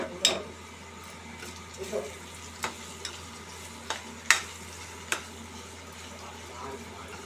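Bottle gourd curry is stirred in a frying pan, with a spoon scraping and tapping the pan in sparse, sharp clicks over a faint, steady sizzle.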